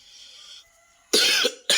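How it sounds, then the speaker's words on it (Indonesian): A person coughs sharply twice, close and loud, with a faint tonal background hum before the coughs. "Batuk ya."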